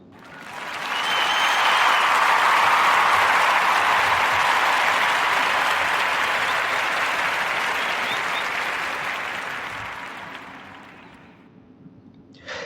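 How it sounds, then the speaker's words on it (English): A studio audience gives a long, warm round of applause for a recent Harvard graduate, swelling quickly to a full, dense roar of clapping, holding steady, then tapering off toward the end. "Narrative Podcast round of applause"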